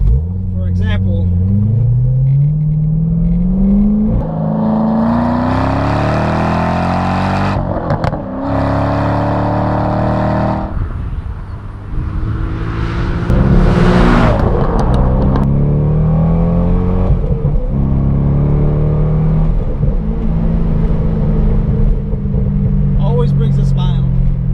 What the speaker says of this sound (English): You really just gotta step on the throttle, you know, halfway, and it'll always put a smile on your face from the torque.